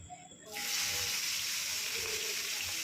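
Prawns dropped into hot oil for prawn malai curry set off a sudden loud, steady sizzle after a quiet start, close and continuous to the end.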